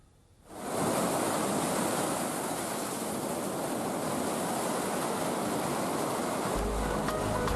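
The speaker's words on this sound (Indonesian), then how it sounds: "Ombak besar disertai angin kencang menerjang perairan selatan Papua." Large ocean waves driven by strong wind on the southern Papua coast at Binaloka beach, Merauke: a loud, continuous roar of surf and gusting wind that rises sharply after a brief quiet start and stays dense throughout.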